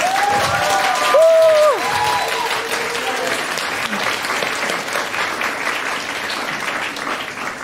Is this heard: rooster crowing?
no